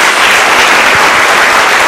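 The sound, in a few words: congregation applause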